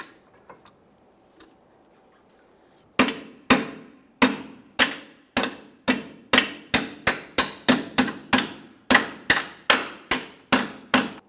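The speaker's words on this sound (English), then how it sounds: "we'll tap it through using our hammer" A hammer striking a bolt in a series of sharp, ringing taps, driving it through a rear lower control arm mount on a Chrysler 300, starting spaced apart and speeding into a quick, steady rhythm after a quiet start.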